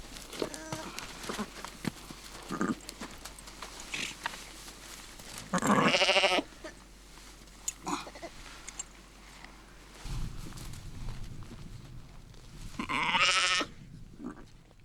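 Sheep and newborn lambs bleat in short, loud bursts at a remote winter pasture, separated by quieter stretches of rustling and faint background noise.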